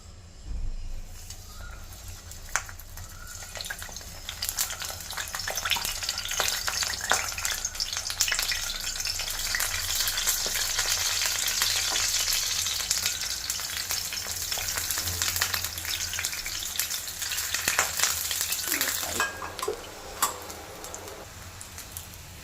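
Round slices of eggplant frying in a pan with a dense, continuous sizzle and crackle that holds steady and loud for a long stretch, with a few sharper pops and scrapes, close and with no voices.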